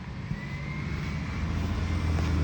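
A loud bus rumbles past nearby with a deep engine drone and broad road roar that builds steadily louder, with no voices.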